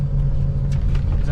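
A Toyota Supra at a car cruise meet idles with a steady low engine hum, heard close by while people talk over it.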